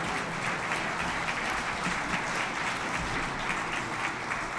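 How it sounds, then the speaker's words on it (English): Audience at an awards ceremony applauding, a continuous even roar of many hands clapping that holds steady without talk. "Please applaud and thank everybody who contributed to our success today."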